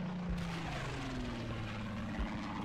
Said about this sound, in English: And that's a plane.